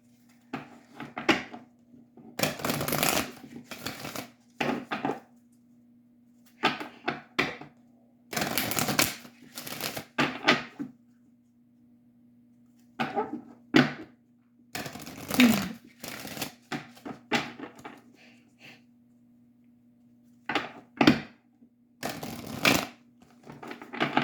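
Oracle cards being shuffled in repeated bursts of crisp riffling and flicking, close by, separated by short quiet pauses and occasional light handling taps.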